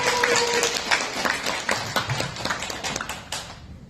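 An audience claps to welcome a lecturer onto the stage at a seminar, with a dense run of hand claps that is loud at first and gradually thins out and fades.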